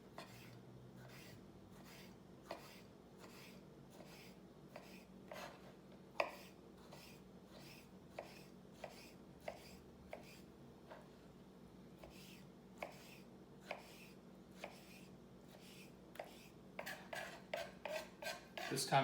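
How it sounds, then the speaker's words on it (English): A knife dicing a tomato on a cutting board for a tomato fondue, with a steady series of sharp, quiet chops that speed up into a rapid cluster near the end, heard close up in a quiet kitchen. "Then we'll dice this up."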